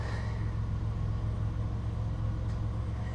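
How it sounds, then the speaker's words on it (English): A 2007 Chevy Impala LTZ 3.9L engine idles with a steady low rumble and even throb, close and constant, with no voices. "I'm gonna let it idle for about 10 minutes"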